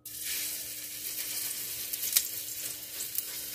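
Steady sizzling of food frying in oil, with occasional small pops and spatters, close and moderately quiet, no voices.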